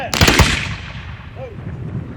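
A ceremonial rifle volley at a Memorial Day commemoration: one loud, crisp volley near the start, then a long echoing decay over outdoor ambience.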